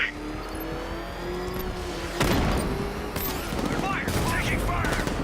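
Gunfire erupts in Batman: Arkham Knight, a loud sustained fusillade of rapid shots bursting in midway over engine rumble, with voices shouting through the din.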